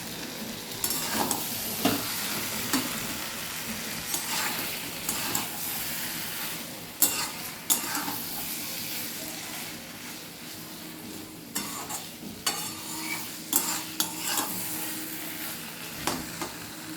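Pointed gourd slices fry and sizzle in a pan as a utensil stirs them, steady hiss with repeated scraping clinks throughout, close and moderately loud with no talking.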